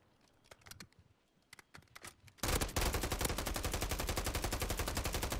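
Gunfire in Call of Duty Warzone: a few scattered faint shots, then a loud, fast, continuous automatic burst that keeps going to the end.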